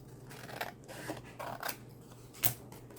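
Scissors snip through a paper tag in a few short, close crisp cuts, one sharper snip near the end, over faint room hum.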